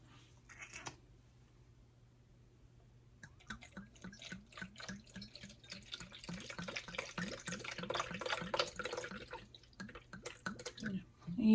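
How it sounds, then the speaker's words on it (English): Water poured into an aromatherapy diffuser's reservoir, a steady close trickle and splash building over several seconds after a quiet start, with dripping and bubbling growing louder toward the end. "Okay, so just going to drop and pour in my water."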